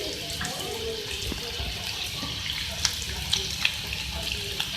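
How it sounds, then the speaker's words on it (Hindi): Carrot and capsicum strips for a party sandwich filling fry in a pan, making a continuous wet, hissing sizzle with a few faint clicks near the end. "इसको भी फ्राई करेंगे"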